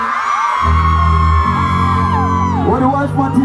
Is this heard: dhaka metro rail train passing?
no